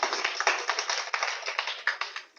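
A congregation claps together in quick, steady rhythm to acclaim Jesus during a church gathering, the applause moderately near and continuous without voices over it.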